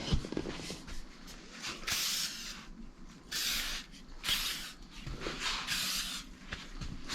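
WD-40 degreaser sprayed onto a walnut box comes in a series of short, close aerosol bursts, each a sharp hiss separated by brief pauses.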